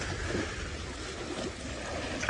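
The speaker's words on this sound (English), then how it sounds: "Splishing and splashing, trying to be as impressive as possible." Young male elephants play in a waterhole, with a continuous low watery churn and splash at moderate distance, fairly even throughout and ending in a brief louder splash.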